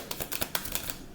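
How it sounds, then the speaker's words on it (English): Tarot cards are shuffled by hand in a quick series of crisp, papery riffles and taps, close and fairly faint, with no talk over them. "I'll shuffle one more time"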